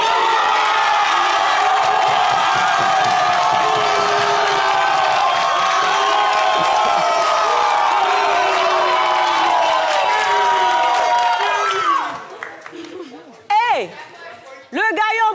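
A dense crowd roars, cheers and whoops for a dance battle at a live show, the noise sustained and loud for about twelve seconds before dropping away as a voice speaks over the quieter room.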